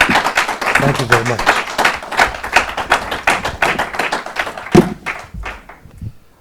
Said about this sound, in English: How about a round of applause for our speaker tonight